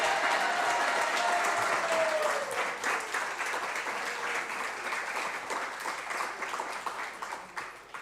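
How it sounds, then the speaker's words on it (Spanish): An audience at a premiere of a documentary series on indigenous cultures in Chile applauds, a full, sustained burst of clapping that starts loud and fades slightly over several seconds. "Un aplauso más fuerte por esta realización"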